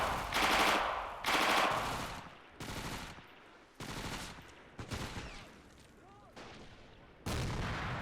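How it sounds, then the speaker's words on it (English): Automatic submachine gun fire, a PPSh, in a war video game set in a snowy Finnish winter town battle: loud repeated bursts of rapid shots with brief gaps, heavy booms mixed in, and faint voices in the background. "I think I heard a PPSH over here somewhere"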